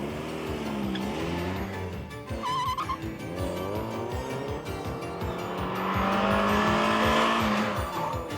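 Mazda Miata in a brake test from 80 km/h, engine revving and tires squealing in a rising, wavering screech as the car skids to a stop, fairly close and loud with no talk.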